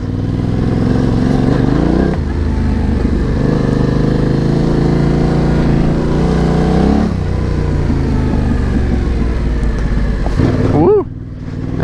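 Yamaha Tenere 700 motorcycle riding a red gravel trail at Perkinstown Motorized Trail, its engine droning close and loud with revs rising and falling through gear changes, a voice speaking at times.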